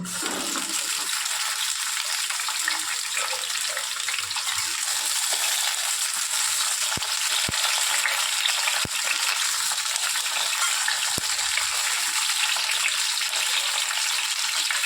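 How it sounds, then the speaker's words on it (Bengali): Pointed gourd (potol) pieces frying in hot oil in a kadai over a high flame, a loud, dense, continuous sizzle with a few sharp clinks and no talking. "ফ্লেমটা জোরে রেখে পটলগুলো লাল করে ভেজে নেব।"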